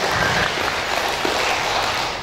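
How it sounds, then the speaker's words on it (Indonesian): At an evening reunion gathering of former family-planning agency staff in Bengkalis, Indonesia, guests clap in a brief, steady rain-like patter that tapers off toward the end. "Tepuk tangan dulu."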